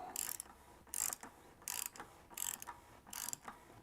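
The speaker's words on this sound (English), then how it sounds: "And I will tighten this down just till it's snug." A wrench tightens a fitting down until snug, heard as five short bursts of ratcheting clicks in a steady rhythm, each lasting under half a second, fairly faint and close, with quiet pauses between strokes.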